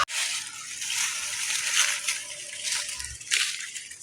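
Water splashes and sloshes steadily onto newly planted seedlings set in soil, a continuous close splattering pour with a brief surge near the end and no talk.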